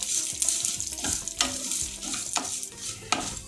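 Urad dal roasting in a pan for a fenugreek buttermilk curry gives off a low sizzle. Repeated scraping strokes of a spoon stirring the lentils sound close and fairly clear, with no voices.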